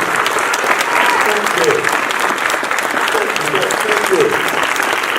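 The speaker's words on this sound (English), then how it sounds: "please a round of applause for Montel Williams" A large conference audience at a cannabis expo applauds loudly and continuously, a dense sustained roar of clapping with voices faintly mixed in underneath.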